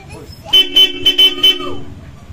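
A European-style horn fitted to a motorbike honks in a quick series of about five short, loud, clear blasts, close by, with light background noise before and after.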